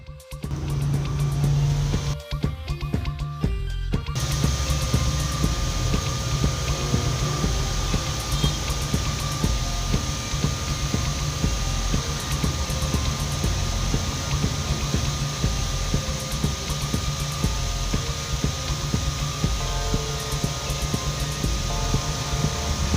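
A homemade mini blower fan built from scrap materials runs with a steady, loud whirring hum. A brief rattly start gives way to an unbroken drone that stays even from beginning to end.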